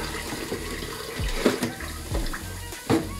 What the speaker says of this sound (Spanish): Ahorita estoy lavando traste.